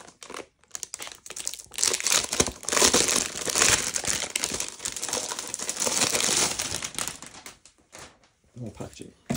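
Plastic and paper packaging crinkles loudly and close up while a Nova Aetas Renaissance board game box is unpacked, a long busy stretch of crumpling and rustling with a few pauses.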